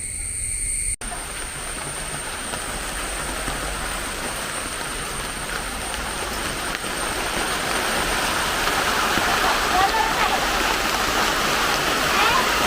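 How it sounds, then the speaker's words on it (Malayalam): Light rain falling outdoors on a gusty day, a steady dense hiss of drizzle that grows slightly louder over time, continuous and close with no talk. "വീണ്ടും മഴ ചെറുതായി ചാറി വരുന്നുണ്ട്"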